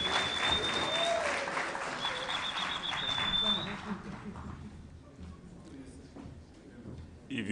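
Dense applause fills the hall at the official opening of the ARIPO Council of Ministers session, loud and steady at first, then thinning out and fading to scattered claps and room noise.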